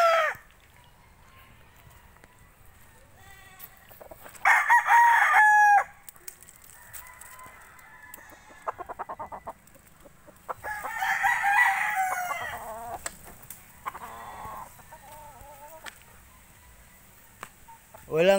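A rooster crows several times, loud and close, among scattered clucks and other farmyard noises in Bonbon, Oslo, Cebu, with someone speaking faintly in between.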